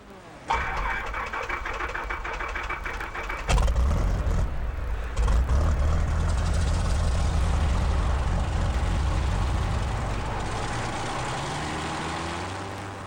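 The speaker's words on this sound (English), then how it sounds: "And the pilots start their engines." An abrupt mechanical start gives way to a loud, steady roar of race plane engines running up and droning on at an air race in Rio de Janeiro, filling the air and fading slightly at the end.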